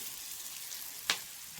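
Mudakathan greens sauté in a pan with a soft, continuous sizzle, broken by one brief sharp crackle or spoon tap partway through.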